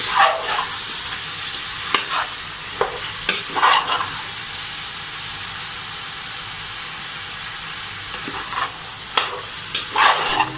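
White beans (lobiya) being stirred in a pot produce a steady sizzle and hiss broken by scattered scraping and clinking knocks of the spoon against the pot.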